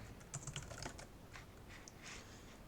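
Quiet clicks of a computer keyboard, a short burst of quick keystrokes followed by a few scattered taps, faint and close with no talking.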